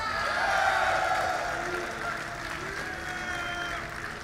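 A live esports crowd at a StarCraft grand final roars with sustained cheering, whoops and applause, a loud, continuous wall of noise that swells early and then holds steady.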